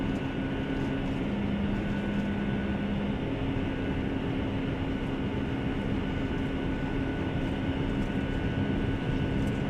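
A simulated Avianca Boeing 757-200 starting its takeoff roll in FSX makes a loud, dense, unbroken engine roar and rumble, with a steady humming tone running through it and no voices.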